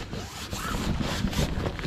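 A zipper on camping gear is drawn in several quick rasping pulls, close and fairly loud, with no other sound around it.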